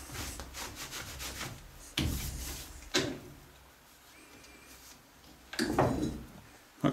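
A medium India stone rubs across a metal angle plate in a few separate, coarse scraping strokes, close up with pauses between them and no talking.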